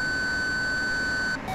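A steady electronic missile seeker lock tone from an F/A-18 Hornet in DCS World, a continuous pure beep that holds loud and unbroken before cutting off abruptly near the end.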